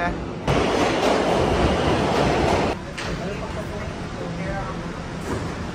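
A New York subway train in motion, a steady loud rumble and rattle of the car that eases somewhat partway through, with voices murmuring underneath.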